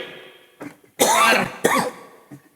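Two loud, harsh coughs about half a second apart, close by, preceded by a fainter throat sound and followed by a short soft one.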